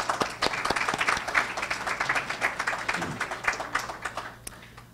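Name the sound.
audience applause for students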